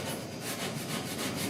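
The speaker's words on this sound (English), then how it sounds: "I'm just sanding with the edge right here because I can't sand flat" Hand block sanding of primer surfacer on the dash of a 1966 Ford F100, using the block's edge, a close continuous rough scraping rub in quick back-and-forth strokes, no voices.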